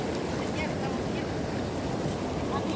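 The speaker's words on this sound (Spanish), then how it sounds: "Vienen las olas, ve." Ocean waves break on a shore in a steady, loud, close wash, mixed with wind buffeting the microphone, during a fishing outing in El Salvador; voices can be heard faintly within the noise.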